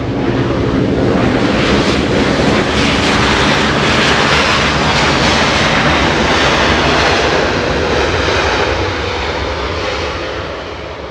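An arriving airliner passes close by at Los Angeles International Airport, a loud, steady engine roar mixed with wind buffeting that holds throughout and eases slightly at the end, with no voices.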